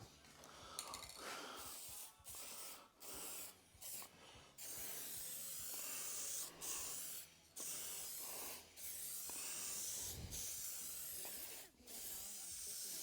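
Spray gun painting the rear guard of a 101-year-old BSA motorcycle, a steady close hiss in repeated bursts of one to two seconds separated by short pauses.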